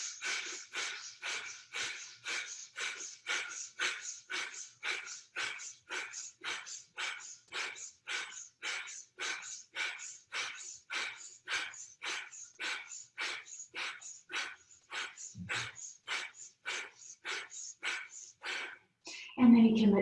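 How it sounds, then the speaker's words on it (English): Rapid rhythmic forceful breaths from a breath-of-joy yoga exercise, about thirty quick pumping exhalations in a steady sequence close to the mic, ending with a brief louder rustle. "from here, we'll come right into breath of joy"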